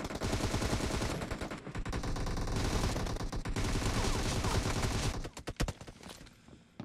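M762 assault rifle fire in a video game: rapid automatic bursts, loud and close, running steadily before breaking into a few spaced single shots that fade toward the end.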